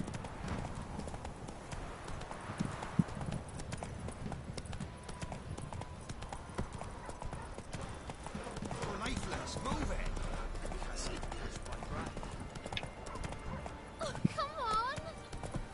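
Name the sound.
horse Roach galloping, hooves clip-clop, from video game Witcher 3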